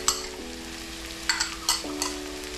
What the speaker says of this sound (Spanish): ya está todo frito los pimientos, le ponemos el orégano, el comino, la pimienta negra